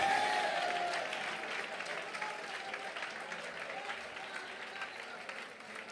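Church congregation applauding at a Malayalam Christian service, a steady wash of many hands clapping from start to finish, gradually easing slightly in loudness, with faint voices mixed in.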